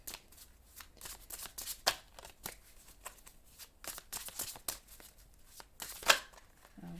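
A Gilded Tarot deck is shuffled by hand in repeated crisp riffling bursts, close and fairly loud, with brief pauses and a few sharp card snaps between them.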